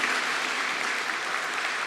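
Sustained applause from a church congregation during a Sunday Eucharist service at a cathedral, steady and dense clapping filling the space without a break.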